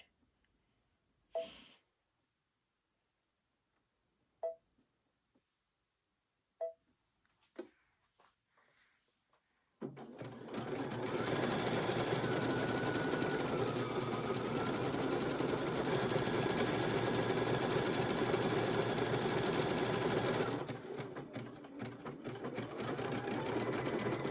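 A sewing machine stitches a decorative pattern through a 5-hole cording foot that holds several threads. A few soft clicks come first, then a steady, close motor whir runs for about eleven seconds and stops, with no talking.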